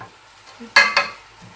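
Meat browns in a pan with onions and crushed garlic, giving a brief, loud sizzling hiss as it is stirred, with a second shorter burst and faint background clinks.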